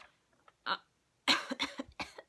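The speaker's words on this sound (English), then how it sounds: "Every time I want to say, I might cough." A person gives a short cluster of quiet, dry coughs in a still room, with a softer throat sound just before.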